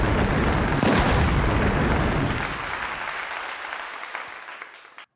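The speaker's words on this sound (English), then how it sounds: "Round of applause for them." A round of applause rises as a dense, loud wash of many hands clapping, then thins and fades away over a few seconds.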